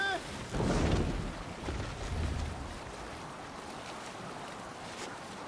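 A Viking longship sails at sea in Assassin's Creed Valhalla, with broad wash of wind and water rolling under the hull, a louder surge early on before settling into steady ocean noise.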